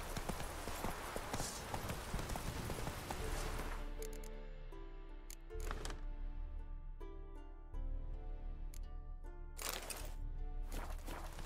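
Roach, Geralt's horse in The Witcher 3, gallops with a rapid, rhythmic clip-clop of hooves, steady and close, amid swelling game noise and music.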